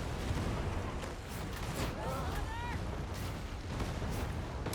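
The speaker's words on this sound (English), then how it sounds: "There's a lot of people shooting guns at us." Dense bursts of gunfire from many enemies in a shooter video game, with repeated loud cracks over a continuous noisy battle din.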